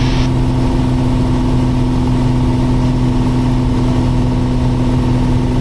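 Piper Cherokee Six single-engine propeller aircraft cruising in level flight, a loud, steady drone with strong low harmonic hum filling the cabin throughout, with no talk over it.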